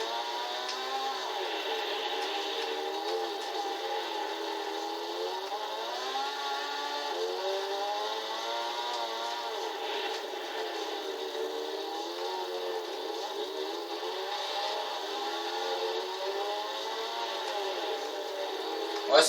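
A Lancia Delta S4 rally car engine in Gran Turismo 6 hums continuously, its pitch swelling and easing as the revs rise and fall, at a moderate, even level.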